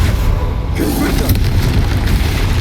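A Confringo fire blast spell cast in the Hogwarts Legacy video game, a loud, dense burst of fiery roar and low rumble sustained throughout, with a shouted voice over it.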